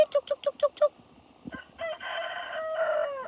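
A red rooster crows loudly nearby after a quick series of short clucks, its long call ringing out alone.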